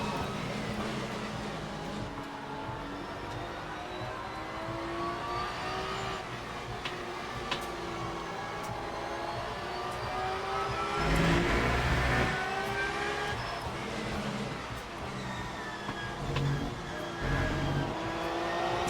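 Race cars including a Porsche lapping at Spa in the video game Le Mans Ultimate, a steady engine drone with rising and falling revs as gears change, a faster car swelling past midway.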